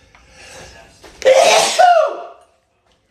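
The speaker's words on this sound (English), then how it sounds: "A live sneeze." A single loud, close sneeze from a man, a short inhaled buildup followed by a sharp explosive burst that trails off into quiet.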